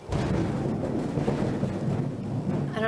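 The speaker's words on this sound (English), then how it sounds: "I don't know if you can hear that thunder." Loud thunder rumbles continuously through a storm, a heavy, rolling roar that fills the whole moment with rain-like hiss.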